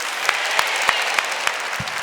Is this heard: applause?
yes